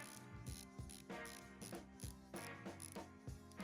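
Nezumi Corbe watch bezel being turned, a run of crisp ratcheting clicks in quick, fairly even succession, close and quiet with nothing else over it.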